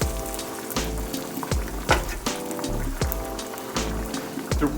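Pork chops going into a pan of cream sauce, giving soft wet sizzling and bubbling with repeated gentle splashes and clinks at a steady rhythm, fairly quiet and close.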